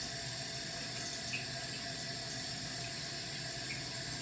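A faucet runs steadily into a sink, a continuous close hiss and splash of water that holds even for several seconds with no talking over it.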